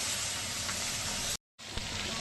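Dried chokka hilsa shutki fish frying in a hot pan, a steady broad sizzle that runs close and loud, cuts out briefly near the middle, then resumes with a small clink.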